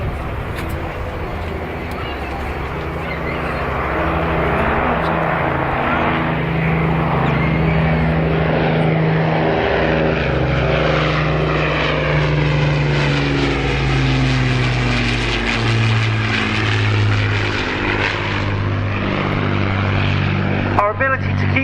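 A propeller aircraft flies past at the RAF Cosford Airshow 2023, its loud droning engine note rising and falling as it sweeps by, steady and close throughout.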